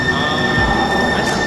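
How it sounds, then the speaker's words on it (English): A metro train passes through a station, a steady rolling rumble with faint wheel squeal and high tonal whine running throughout, loud and close with no talk. "Is that a tram or a metro?"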